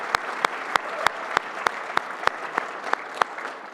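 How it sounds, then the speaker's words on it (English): An audience at a Canadian event for entrepreneurs gives a steady round of applause, dense and continuous, punctuated by a regular series of sharp, evenly spaced clicks about every third of a second. "big round of applause"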